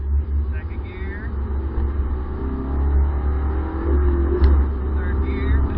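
A Subaru BRZ Limited with a naturally aspirated engine accelerates in second gear, giving a steady, loud low rumble from inside the car, with brief voices over it.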